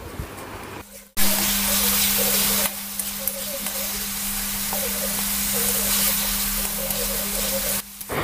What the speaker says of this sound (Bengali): এবার এই পেঁয়াজ বাটাটা আমি ধিমি আঁচ করে 5 মিনিট কষিয়ে নেব।